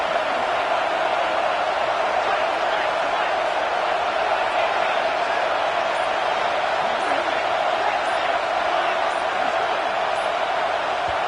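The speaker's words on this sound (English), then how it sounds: "This crowd bringing the energy and noise" Football stadium crowd roaring in a steady, dense wall of noise for the whole stretch, loud and unbroken, with no single voice standing out.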